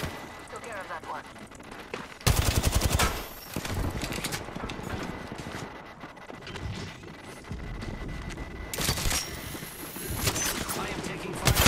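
Bursts of rapid gunfire in a video game shootout, loud broadband volleys that start abruptly and continue through most of the stretch, with short lulls between.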